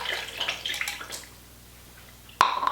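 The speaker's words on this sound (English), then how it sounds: "I'm going to put the pork in the slow cooker, along with 1 cup of water." Water from a cup splashes and trickles into a slow cooker holding pork, then goes quiet before a short sharp clink near the end.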